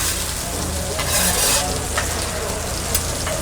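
Köfte meatballs sizzle on a hot griddle at an Elazığ street food stall, a steady loud crackling hiss with occasional sharper spits and pops, heard close up without talk.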